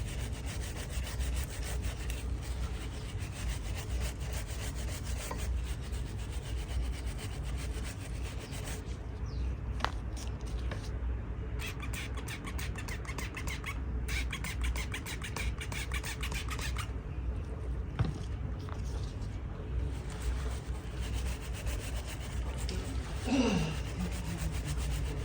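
A very dirty chain on a Ducati S2R 1000 motorcycle being scrubbed clean, giving a steady, close rasping and rubbing sound that continues without pause.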